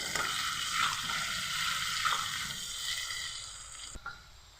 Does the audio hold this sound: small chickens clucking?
no